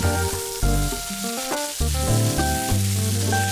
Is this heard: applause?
no